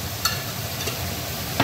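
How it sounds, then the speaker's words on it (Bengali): Spices and ground cumin being sautéed in oil in a pan for a mushroom curry, giving a low steady sizzle with a couple of brief clinks of a spoon against the pan. "এবার বেশ কিছুক্ষণ এটা কষাবো, যতক্ষণ না তেল ছেড়ে আসবে"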